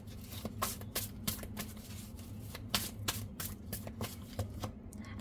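Oracle cards being shuffled for a chakra reading, close and fairly quiet, a run of quick rhythmic riffling slaps over a faint steady hum.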